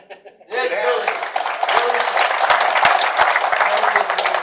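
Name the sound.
audience applause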